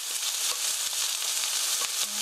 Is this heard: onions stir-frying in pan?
yes